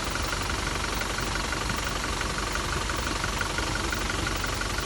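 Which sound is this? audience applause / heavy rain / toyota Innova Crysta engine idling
toyota Innova Crysta engine idling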